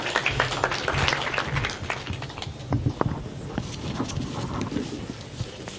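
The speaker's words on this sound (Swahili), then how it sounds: "A hearty clap to our Vice Chancellor" Applause for the Vice Chancellor at a university accreditation ceremony for a maritime academy, a crowd clapping densely and steadily throughout, fairly loud and slowly thinning toward the end.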